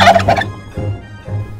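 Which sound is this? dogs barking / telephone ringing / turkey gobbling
turkey gobbling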